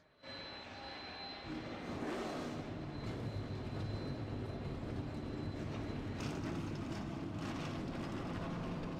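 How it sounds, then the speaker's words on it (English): A field of race cars starting their engines in the NR2003 racing game, a sudden loud mechanical roar that kicks in at once and holds as a steady, dense droning rumble with a faint whine on top. "Drivers, start your engines!"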